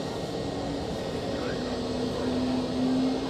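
An Etihad airliner departs Zurich Airport, a steady broad jet roar holding at a distant, even level and swelling slightly toward the end, with a low engine tone rising underneath.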